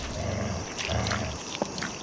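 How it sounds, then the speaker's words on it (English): Two dogs gurgle, snarl and tear at a body in the horror game Nightmare of Decay, a wet, throaty growling that goes on steadily over a faint night ambience with a high steady whine. "these 2 dogs gurgling and ripping apart this poor guy"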